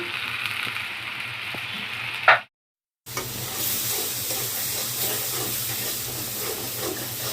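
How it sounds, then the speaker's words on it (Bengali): Grated tomato is poured into hot frying spices of salt, coriander and cumin powder, giving a loud, steady sizzling hiss. The hiss cuts out briefly, then resumes and carries on. "টমেটো গ্রেট করে আগে থেকে রেখেছিলাম, সেটা ঢেলে দিলাম।"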